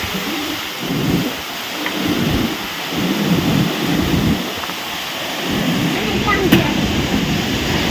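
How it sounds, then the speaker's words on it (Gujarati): A sudden windstorm with rain in rural Gujarat roars steadily and loudly, gusts surging and easing across the whole stretch, with a faint voice underneath. "છાંટા પડે છે ને પવન ભૂકા કાઢે"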